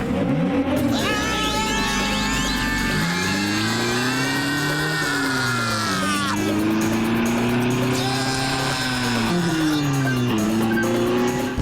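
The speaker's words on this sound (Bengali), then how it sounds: "জিপের স্পিড খুব জোরে বেড়ে যাক।" Cartoon jeep in a chase scene roars at full volume as it speeds up, a continuous engine whine rising and falling in pitch with tire squeals and swooshing effects layered over it throughout.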